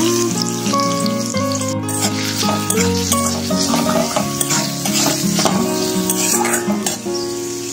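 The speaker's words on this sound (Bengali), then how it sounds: "পেঁয়াজটাকে ভালো করে ভেজে নেবো।" Chopped onions fry in hot oil with cinnamon, giving a close, crackling sizzle as a spoon stirs and scrapes the pan. Music plays throughout and no one speaks.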